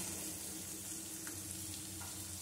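Yellow and red bell peppers, capsicum and sweet corn frying in a pan for Schezwan fried rice, giving a steady, continuous sizzle with a few faint stirring touches and no talk.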